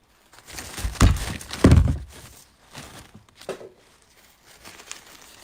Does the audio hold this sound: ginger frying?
no